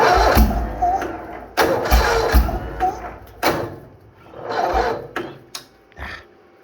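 A Bolens HT-23 garden tractor engine is cranked in -40 weather, with repeated labored starter bursts that whir and sputter in uneven pulses before cutting off. Faint voices can be heard near the start.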